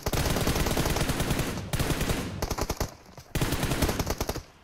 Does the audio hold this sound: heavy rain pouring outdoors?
no